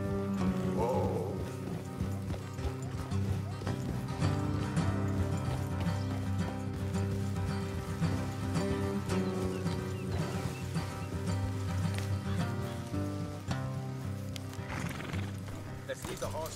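Horses in the video game Red Dead Redemption 2 clip-clop along at a trot and let out loud whinnies, set against a dense game soundtrack with voices talking.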